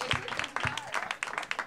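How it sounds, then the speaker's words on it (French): Audience applause for a group of girls at a comedy show, a short burst of dense clapping with a few talking voices mixed in, fairly quiet and steady throughout. "On applaudit chaleureusement les filles d'OD."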